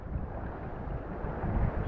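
Wind gusts buffet the microphone outdoors while fishing for barbel by the water, a steady low rushing blow with no voices.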